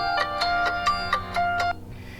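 A mobile phone ringtone for an incoming call plays a bright melodic pattern of about seven rapid repeated notes, loud and close, then cuts off abruptly.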